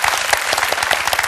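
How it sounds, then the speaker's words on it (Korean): A talk-concert audience claps steadily in a dense, close burst of applause with no voices over it. "박수 부탁드립니다"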